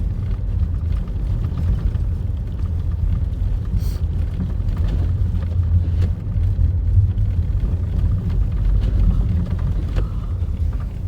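Strong snowstorm wind blows around a car, a steady, loud low roar and rumble with gusty buffeting that never lets up.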